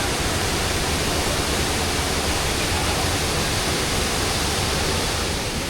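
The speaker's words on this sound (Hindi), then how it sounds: "तो हमने सोचा कि कांथापारा वाटरफॉल घूम लेते हैं।" Kanthapara waterfall in Wayanad roars with a loud, unbroken rush of falling water, dense and steady throughout, heard close with no voices.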